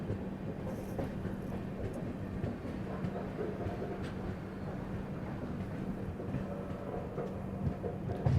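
The Kongu Express arriving at a station, with a low continuous rail rumble and faint clatter heard from on board, steady and moderately distant, along with an idling locomotive hum and no talk.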